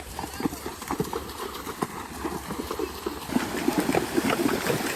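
Horses galloping on a trip in Colombia, their hooves beating a steady, rhythmic clip-clop close by while people talk over it.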